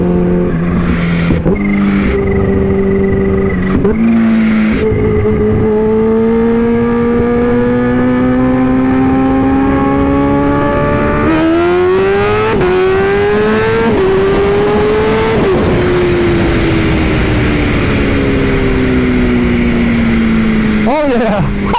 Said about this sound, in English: Looks like first gear launching is working.